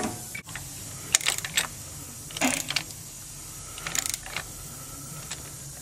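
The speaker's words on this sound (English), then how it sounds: "As you turn it around, it will rotate the piston and compress it in at the same time." Caliper tool being turned to rotate and compress the rear brake piston on a Ford Taurus, giving close, intermittent ratcheting clicks and mechanical creaks in short bursts over a quiet background.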